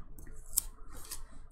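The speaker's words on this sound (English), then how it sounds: "I'll have to cut it off." Scissors cut paper for a personal planner: two quick, quiet snips in a hushed room.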